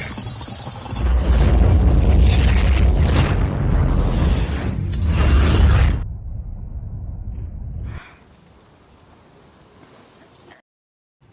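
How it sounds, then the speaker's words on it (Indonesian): A bomb explosion in a film sets off a loud, rumbling blast that roars for several seconds, then drops to a quieter rattling debris-like hiss before falling silent. "Agar ledakan bom tidak kemana-mana, mereka menggunakan sekop eskavator untuk menyelamatkan Hinako"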